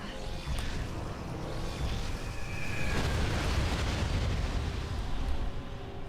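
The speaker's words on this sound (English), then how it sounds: "Behold, the one room in the game where I actively use the ship missiles." Ship missiles launched in Metroid Prime 3 against Berserker enemies, rumbling blasts and bursts layered over a continuous dense roar of game noise, loud and close with no talking.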